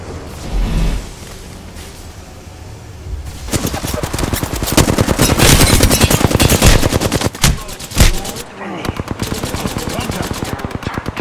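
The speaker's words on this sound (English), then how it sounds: "The enemies are shooting at me." Rapid automatic gunfire from the video game Apex Legends comes loud and close in dense bursts, with a brief pause and then more sustained shooting; faint in-game voice lines sit under the fire.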